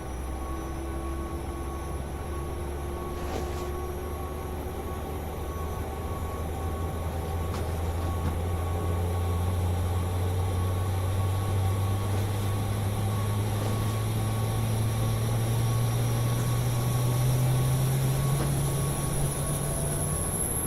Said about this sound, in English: APU fire up. Go outside, take a listen while I watch the baggage being loaded.